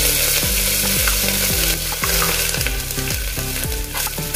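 Ginger paste fries loudly with tomatoes and chillies in a pan for a methi and masoor dal dish, a dense continuous sizzle with rhythmic scraping strokes of a spoon about twice a second.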